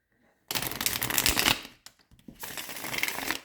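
Cards riffle and slap together in two quick bursts of shuffling, close and crisp, separated by a brief pause with a few light taps.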